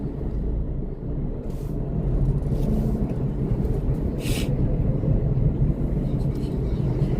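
A car maneuvers on a street in Maceió during Carnival, giving a steady low engine rumble close by, with a brief higher whoosh partway through and faint background noise throughout.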